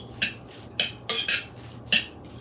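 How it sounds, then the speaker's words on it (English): Metal utensil scraping and clinking against a bowl while salt is mixed into grated cucumber, five sharp bright strokes at an uneven pace, close and fairly loud with no talking. "I'm putting 1 teaspoon of salt in there, and then I'm going to mix it around"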